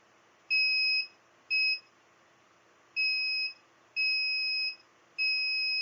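An ESP8266 water-level monitor's buzzer alarm beeps five times with a clear, steady electronic tone in bursts of uneven length, loud and close over a faint background hum.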